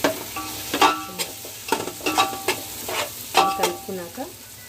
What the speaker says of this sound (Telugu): మనం ఇప్పుడు 2 టేబుల్ స్పూన్స్ కారం వేద్దాం. వేసి ఇది కూడా